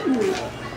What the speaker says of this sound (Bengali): নটটা ডাকাডাকি করতেছে এই মুহূর্তে